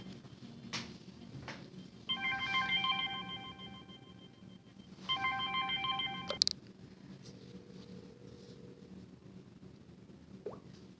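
A mobile phone rings indoors during a stamping craft session: two bursts of a layered electronic tone, each about one and a half seconds, separated by a short gap, fairly soft over low room hum, with no talking.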